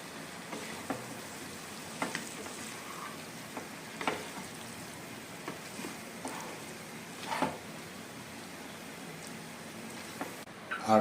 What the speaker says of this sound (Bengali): এখন সবজিগুলো লেবু রসের সাথে ভালো মতো মিশিয়ে নিব